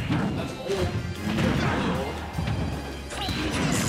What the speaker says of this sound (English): You smashed that rock.